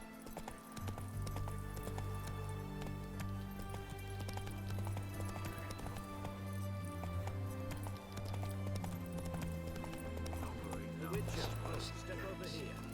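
Roach the horse gallops in The Witcher 3, a quick, rhythmic clip-clop of hooves running under a bed of game music, with the pace steady across the stretch.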